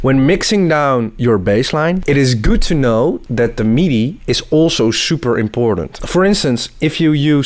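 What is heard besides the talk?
No everyday noises stand out.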